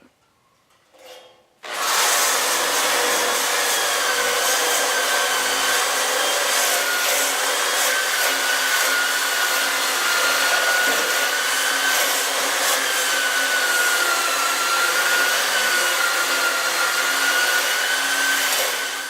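An angle grinder strips the vinyl top off Chrysler 300 sheet metal. After a brief spin-up it settles into a loud, continuous high whine of abrasive grinding that runs close and unbroken to the end.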